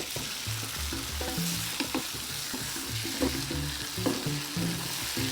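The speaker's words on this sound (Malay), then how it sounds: "Masukkan beberapa keping nanas yang telah kita potong tadi dan kacaukan sehingga sebati dengan nanas tersebut." Steady frying sizzle in a pan with repeated scraping and clinking of a utensil stirring pineapple pieces, close up and continuous.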